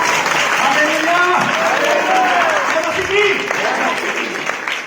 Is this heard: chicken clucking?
no